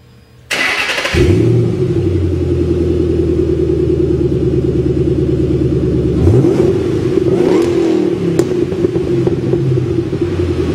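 A Ford Mustang Roush 427R with a 3-valve 4.6-liter V8 fires up and settles into a loud, steady rumbling idle, then gets blipped with a few throttle revs near the end. No one speaks.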